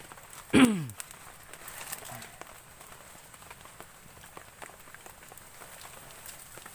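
Heavy rain with strong wind at a campsite: a faint, steady patter and crackle of drops on surfaces, with one sharp, close knock near the start.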